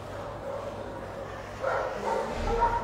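A dog at a shelter gives soft, muffled barks and whimpers toward the end, heard at moderate distance against a low background hum.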